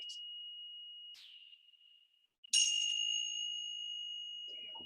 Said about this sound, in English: you can either tap lightly this way, so you have like a chime effect